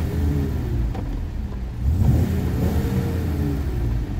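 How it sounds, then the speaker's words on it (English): Engine of a 1990 BMW E30 M325i blipped from a steady idle, a low rumble swelling briefly twice, fairly quiet and close, with no talk over it. "So I'll give it a little rev."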